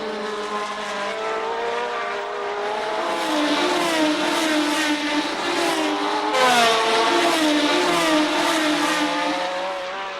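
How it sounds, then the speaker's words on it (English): Formula One V12 race cars from 1970 accelerating away at the Clermont-Ferrand circuit, a dense sustained high-pitched engine wail with rising, overlapping revs across the whole stretch, loud and continuous. "Here the V12s could show all their power."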